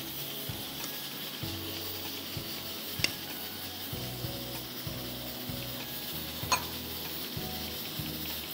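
Khatti daal with bottle gourd simmering in a pot, giving a steady soft sizzle and bubbling with faint clinks and a couple of brief sharp ticks, close and continuous with no talk.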